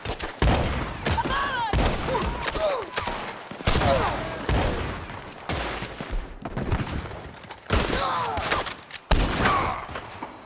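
Gunfire in Red Dead Redemption 2 during a shootout: repeated bursts of shots in clustered volleys with short gaps, loud and close, with shouted voices mixed in between.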